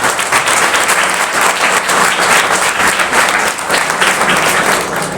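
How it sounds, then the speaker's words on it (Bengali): A crowd applauds together at a government ITI event, dense continuous clapping loud and close throughout, with no pause or break. "আমরা ট্রেন্ড সেটারের জন্য একটা হাততালি করি।"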